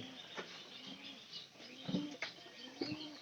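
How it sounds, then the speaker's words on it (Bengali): A pigeon coos several times at close range in a low, repeated murmur, with light fluttering and rustling in between, outdoors where corn feed is being set out. "পায়রাটার ডাক বাবা আছে।"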